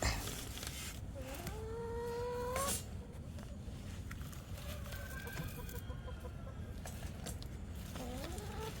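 A hen in a coop gives several drawn-out, wavering clucks and squawks at moderate distance during egg collecting, spaced over a constant noisy background.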